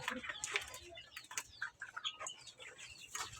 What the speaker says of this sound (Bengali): কোয়েল পাখিগুলা